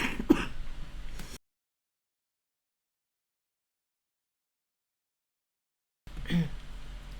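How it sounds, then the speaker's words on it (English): A person clears their throat and coughs once near the start, then falls silent, and a second throat clearing follows at the end, close and quiet. "Sorry, coughing."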